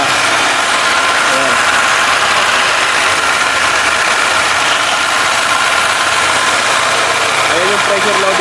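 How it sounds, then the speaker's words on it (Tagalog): A coin-operated machine running after being started with coins: a loud, steady engine-like drone and vibration that continues throughout, with a person's voice faintly over it. "Umandar yung ating makina."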